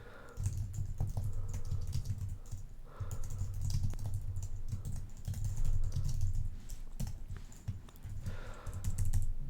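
Steady computer-keyboard typing of Swift code, rapid clicking keystrokes in continuous bursts with brief pauses, close and moderately quiet, with no voice.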